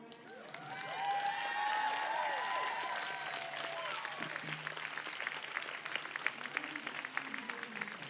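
Applause from the audience at a medical school physician assistant program commencement ceremony, a broad sustained crowd clapping that swells and continues steadily, heard at a distance with some cheering and voices mixed in.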